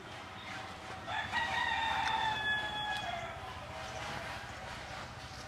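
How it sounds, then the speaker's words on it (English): A rooster crows loudly in a provincial house garden in the Philippines, one long drawn-out call rising over steady outdoor background noise. "Yes, there are roosters"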